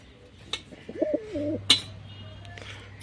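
A pigeon coos softly in a short rolling phrase, with a few faint clicks and a low hum behind it.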